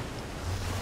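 Water gushes out in the Minecraft Story Mode video game, a brief, soft, steady rush of broadband noise, like surf, with no voices over it.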